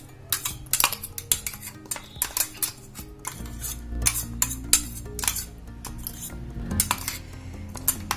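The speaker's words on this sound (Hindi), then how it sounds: "हमारी चटनी पीस चुकी है, इसको निकाल लेते हैं कटोरी में।" A metal spoon scrapes and clinks against a steel grinder jar as freshly ground chutney is scooped into a bowl: quick, irregular close-up taps and scrapes, fairly quiet, with no talking.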